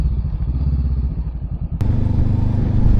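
A 2018 Honda CB500F twin-cylinder motorcycle is ridden with a loud, close engine drone and rhythmic exhaust pulsing. A clunk and a rise in revs come midway as it pulls away harder, under wind noise.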